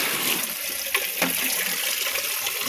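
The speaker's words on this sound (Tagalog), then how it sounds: "Guys, nag-awas-awas ang tubig." Water spilling over the rim of a full bucket, a steady broadband splashing and gushing that runs continuously and fairly loud, with a couple of brief knocks, no talk.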